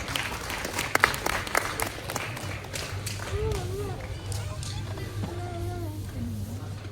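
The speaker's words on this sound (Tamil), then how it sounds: "ஒரு கைத்தட்டலோட அவர் அழைக்கலாம்." An audience at a Tamil film audio launch claps to welcome a speaker, with scattered sharp claps and crowd noise that fade while voices carry on underneath.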